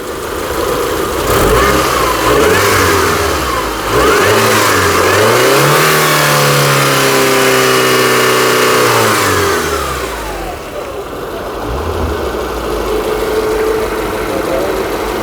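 A Honda Accord's engine running close by, climbing through a long rev and settling back to a steady hum over about fifteen seconds, with talk faintly underneath.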